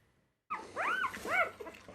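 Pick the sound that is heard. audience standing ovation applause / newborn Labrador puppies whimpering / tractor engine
newborn Labrador puppies whimpering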